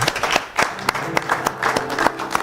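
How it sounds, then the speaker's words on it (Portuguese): An audience claps for a speaker on a gospel TV programme, with brisk, scattered handclaps that come close together and sound like a modest group rather than a large crowd. "Por favor, uma salva de palmas ao nosso servo."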